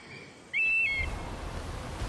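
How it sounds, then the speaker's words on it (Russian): A golden eagle in Assassin's Creed Odyssey gives a single sharp, whistling cry that rises and falls briefly, standing out clearly against a soft steady game background. "Золотой орел."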